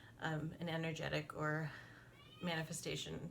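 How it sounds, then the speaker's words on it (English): A house cat meows a few times in the background while a person keeps talking nearby, the cries blending faintly with the speech. "I'm so sorry about the cat in the background"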